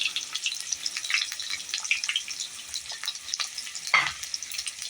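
Chopped onions fry in hot oil with a constant bright, close sizzle, broken by occasional stirring scrapes and a sharper clack near the end.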